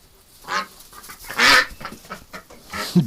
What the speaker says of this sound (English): Oh, we got ducks in here.